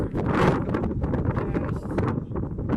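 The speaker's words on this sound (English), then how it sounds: "But yeah, it's pretty windy" Steady, loud wind buffeting the microphone outdoors, a continuous low rumble with gusty swells throughout.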